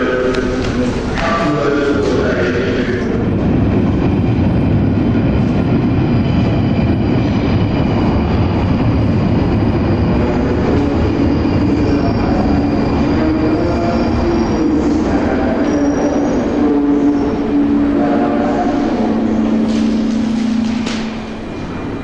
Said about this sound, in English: And now my train back to Euston.